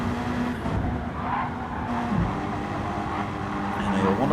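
GT3 race car in a racing video game at Tokyo Expressway, engine roaring with tyres squealing and skidding as the tail slaps out. A commentator talks over the steady, loud engine noise.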